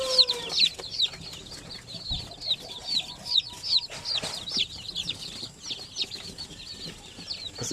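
Backyard chickens cluck repeatedly in short, bright bursts, several birds close by, with a moment of wing flapping partway through.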